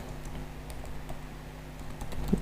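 A computer keyboard typed on steadily while entering HTML code, with a light, even patter of key clicks over a low background hum, close and moderately loud with no voice.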